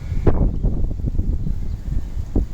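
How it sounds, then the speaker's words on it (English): Strong wind roars across the microphone in close, rumbling low bursts with a couple of sharper gust hits, continuous and loud throughout. "And it's windy. Very windy."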